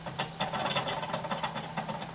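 A steady, soft rattling whir with rapid clicking pulses as pet mice run on a spinning exercise wheel, faint and continuous with no voices.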